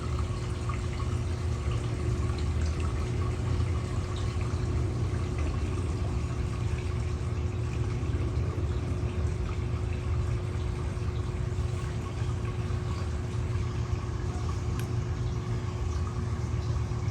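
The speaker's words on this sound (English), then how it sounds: "So we'll do waterfall sounds." Steady splashing of a backyard garden waterfall, a continuous broadband wash with a faint hum beneath, constant and fairly close with no voices.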